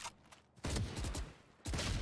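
Valorant gunfire comes as two loud bursts of shots close up, each cracking out over a short stretch with a brief quieter gap between them.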